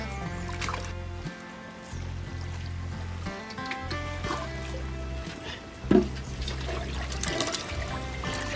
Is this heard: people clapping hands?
no